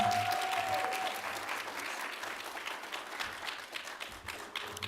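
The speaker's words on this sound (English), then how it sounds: "one more round of applause for all of our graduates" An audience claps for graduates at a DrPH commencement and hooding ceremony, sustained applause in a large hall that starts strong and slowly thins, with a faint voice underneath.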